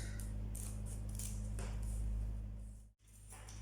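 A flat plate being cut open with scissors or a similar tool while making a curved fascinator, producing a few close, soft snipping and scraping sounds over a steady background hum, followed by a brief silence.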